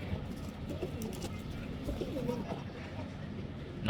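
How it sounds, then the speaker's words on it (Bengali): A male pigeon coos softly in repeated low, throaty calls, faint against a background of other pigeons and light ambient noise. "এই যে একটা নর ডাকাডাকি করতেছে"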